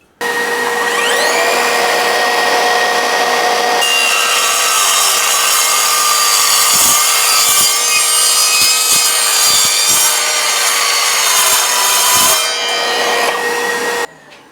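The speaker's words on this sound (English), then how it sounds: "It goes without saying that this thing will cut uni-strut as well for electricians." Evolution R185SMS-Li 18V cordless sliding mitre saw spinning up with a rising whine, then grinding loudly through uni-strut metal channel in a sustained harsh cut before winding down.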